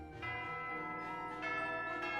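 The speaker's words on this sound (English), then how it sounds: "Fire Emblem bells, guys" Church bells ring in the Fire Emblem: Three Houses video game, a dense, sustained peal of overlapping tolls with shimmering overtones, fairly full and continuous with new strikes layering in.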